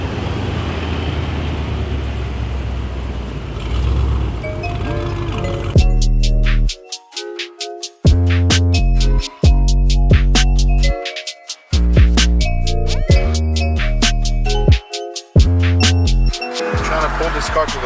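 A very loud Jeep SUV launches hard, its engine bursting into sharp, revving pulses with brief gaps between gear changes, following a stretch of low rumbling idle and road noise.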